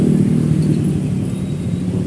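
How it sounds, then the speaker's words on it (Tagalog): Dense road traffic on a busy street near a fair with a Ferris wheel, heard as a steady, loud low rumble of car engines throughout with no clear separate events and no talking. "sobrang traffic"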